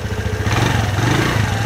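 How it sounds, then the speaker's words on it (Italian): Piaggio Liberty 125 scooter engine revving up close in a short burst, a steady loud low engine drone that swells slightly, with no talk over it. "fammi un attimo una sgasata"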